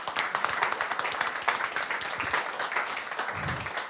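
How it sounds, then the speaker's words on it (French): Audience of about fifteen people applauding the hosts of the restaurant L'Étape in Sainte-Fortunade, Corrèze, at a small live show; steady dense clapping throughout, fairly close and lively. "On peut les applaudir"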